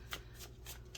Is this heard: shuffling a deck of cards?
yes